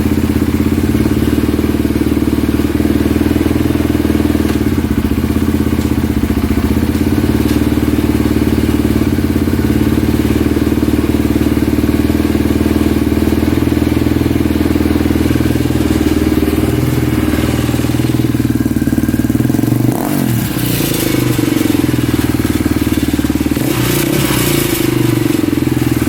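A Polaris Predator ATV engine runs loud and rough nearby, a constant heavy drone with rattling, and a couple of brief revs near the end.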